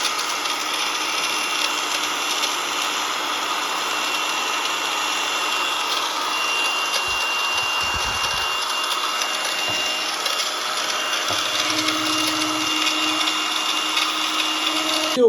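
An electric drill with a freshly lubricated gearbox runs steadily at speed for the whole stretch, a constant high whine and motor hum, near and loud, with no talk.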